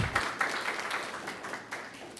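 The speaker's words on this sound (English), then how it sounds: "You can clap if you like." Audience members applaud at a city council meeting, a brief patter of clapping that rises at once and gradually fades, with no voices.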